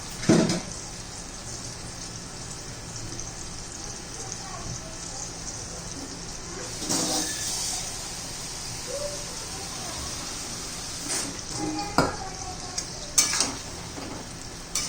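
Spiced eggplant and potato sautéing in a pan for a dry masala vegetable dish, with a steady soft sizzle throughout and occasional clinks of a spoon against the pan, while a person talks.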